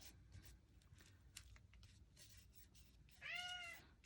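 A cat gives one short meow near the end, fairly close and clear, after quiet rustling and scratching sounds in an indoor room.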